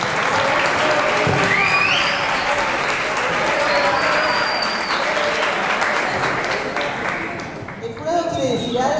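Students at a school mock jury trial are applauded with loud, sustained clapping from a crowd in a room, with cheers and voices mixed in, tapering off near the end.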